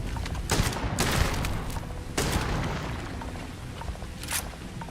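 Gunfire and automated turrets in Starfield hammer at enemies in rapid bursts, with loud booming shots and sharp cracks repeating over a dense rumble of combat.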